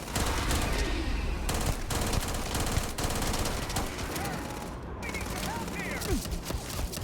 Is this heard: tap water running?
no